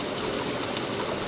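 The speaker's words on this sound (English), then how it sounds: "Lets the water come down into the front pan." Steady water running and splashing into the front pan of a maple syrup evaporator during boiling, a continuous close rushing flow with no talk.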